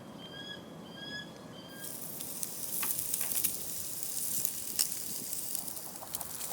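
A Wagyu steak sizzles over an open fire with a continuous crackling hiss and occasional pops, while birds chirp and coo in the background at the start.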